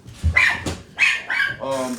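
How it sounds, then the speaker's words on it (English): A dog barks several times in quick, sharp bursts close by, ending in a higher, whiny yelp. "stop barking at the mailman"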